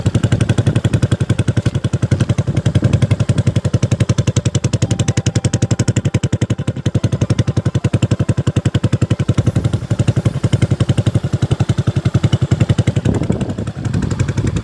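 A stock Honda Beat Deluxe scooter fitted with an aftermarket Kondoman MDM muffler idles close by, with a loud, rapid, even putter that sounds like a leaking exhaust and runs steadily with no talk.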